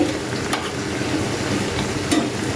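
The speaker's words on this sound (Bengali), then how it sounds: "তো এক এক করে ভেজে নিচ্ছি।" Food frying in a pan for iftar, a steady close sizzle and crackle with a couple of brief clinks from stirring, and no talk.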